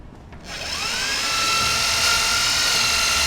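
High-pitched drill run by a civilian in Splinter Cell Chaos Theory, bathhouse level: it spins up with a rising whine after a short pause, then holds a loud, steady shrill tone with no talk.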